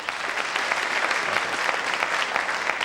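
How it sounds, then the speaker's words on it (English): A studio audience at a late-night television taping applauds steadily, dense continuous clapping filling the room at moderate loudness with no talk over it. "Applaud if you have been here before."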